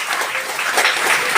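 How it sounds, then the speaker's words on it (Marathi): Applause from an audience greeting a ward corporator at a community meeting on redeveloping load-bearing buildings in Nalasopara East, a steady dense wash of many hands clapping throughout the short stretch, with no voices over it. "सर्वांनी टाळ्या वाजून त्यांचे स्वागत करायचं आहे"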